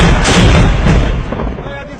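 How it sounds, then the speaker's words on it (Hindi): A Pakistan Army mortar fires during border operations: one loud, close blast at the start that rolls off into a fading rumble, with voices heard around it. "Motor fire."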